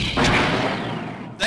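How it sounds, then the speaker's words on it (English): Super grenade blast in the arcade game Metal Slug 3, a loud close boom with a booming tail, cut off by a second sharp burst at the end, with a voice over it. "Super grenade."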